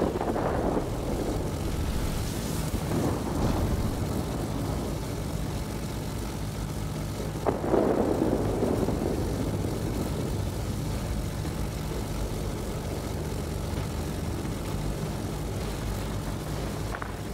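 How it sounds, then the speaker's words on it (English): Enemy aircraft drone through the World of Warplanes video game as a steady propeller-engine roar that holds fairly constant, with a couple of brief swells where planes pass close. "There are too many enemy aircraft."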